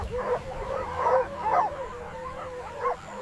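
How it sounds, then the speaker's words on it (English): African wild dogs crowding a fresh carcass give high, yipping chatter calls in repeated bursts, close and fairly loud, with a low rumbling background. "A pack of African wild dogs crowds around a fresh carcass."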